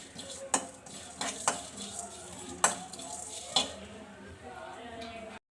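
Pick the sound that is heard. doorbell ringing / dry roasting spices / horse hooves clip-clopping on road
dry roasting spices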